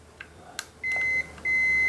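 Multimeter continuity tester beeping on a Full HD TV panel PCB, giving two steady close tones separated by a short gap and preceded by faint clicks.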